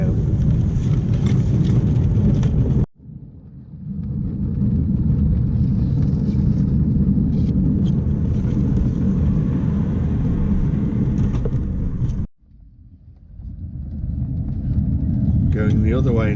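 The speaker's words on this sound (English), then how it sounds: "Going the other way now with the brake van for the first time" A 7 1/4 inch gauge miniature railway train running with a brake van makes a close, continuous rolling rumble, broken by two sudden short gaps before it resumes.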